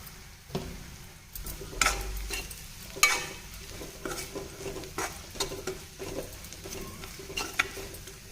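Sliced onions sizzle in a pan for an onion egg curry while a spoon stirs them, giving soft scraping clacks every second or so over a steady low frying hiss.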